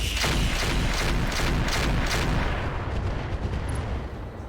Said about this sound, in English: we're going to fire our Heavy Rotary AC-5 in X6 mode